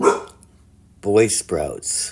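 A pet dog barks loudly and close by, with a short bark followed after a pause by several more in quick succession, while a person speaks briefly at the same time.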